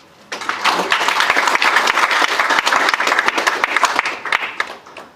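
Attendees at a permit conference for Class A, B, X and Z installation permit holders give a round of applause, close and fairly loud, rising quickly and fading out after about five seconds.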